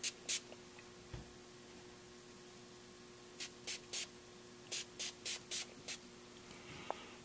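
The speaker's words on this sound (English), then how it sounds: "So we'll just go ahead and give him a little spritz of oil." Short bursts of aerosol oil spray hit the parts of a Marlin 1895 Guide Gun lever-action rifle in .45-70, two quick spritzes and then a rapid run of about eight close, crisp puffs in a quiet room.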